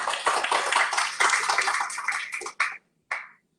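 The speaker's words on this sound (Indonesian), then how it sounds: "saya berikan tepuk tangan dulu." A church congregation claps loudly in a dense crackling wash that stops abruptly, followed by a couple of short trailing claps and brief silence.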